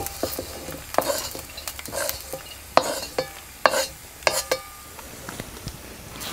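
Garlic roasting in a hot pan for peanut chutney, a faint sizzle under repeated sharp scrapes and knocks of a spatula against the pan, with no talking.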